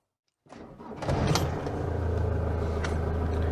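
A 2003 LDV Convoy van with a Ford 2.4 Duratorq diesel engine starts after a brief cranking and settles into a low, steady idle. The rumble is close and continuous, with no talking.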